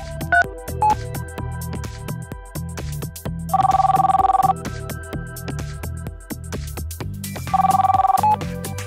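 A telephone rings on a cell phone call to the Nerf Patrol, two bursts of trilling bell tones roughly four seconds apart over a steady low background.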